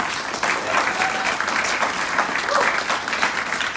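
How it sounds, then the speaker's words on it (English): Steady applause from a town hall crowd fills the room, sustained clapping throughout at a fairly even level. "Let's just give them another round of applause right now."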